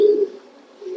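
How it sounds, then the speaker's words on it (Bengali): A pedigreed breeder pigeon, a hen, coos softly and close by in a single low murmuring call that fades midway and swells again briefly at the end. "এটা একটা বিডার কবুতর"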